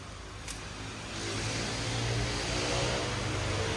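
Toyota Fortuner 2.8 GR SUV engine running steadily, a broad continuous hum that swells slightly after the first second and holds at a moderate, even level with no talk.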